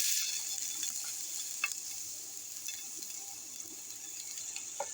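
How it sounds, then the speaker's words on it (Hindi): Chopped garlic dropped into hot oil, sending up a steady, faint high hiss of frying with a few small crackles scattered through it and no talking. "तेल गरम हो गया है, ये आप देख लें, तेल हमारा गरम हो गया। अब लहसुन डाल रहा है।"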